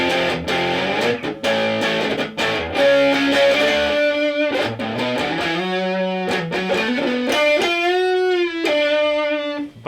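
An electric guitar with modified humbucker pickups plays through heavy distortion, with chugging chords and then sustained ringing notes, loud and continuous with no talking.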